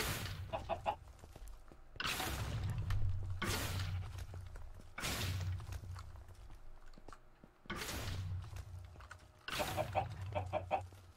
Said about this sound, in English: I want a chicken.